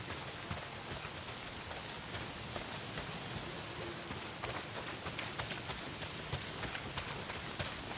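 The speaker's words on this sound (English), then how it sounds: "Well, not if it's pissing down rain." Heavy rain pouring down in the video game Days Gone, a dense, steady hiss of drops hitting surfaces with scattered sharper splatters, continuous and close.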